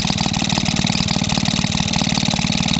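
A Maytag 72 twin engine runs slowly, close and loud, with a rapid even chugging pulse that repeats throughout and no voices.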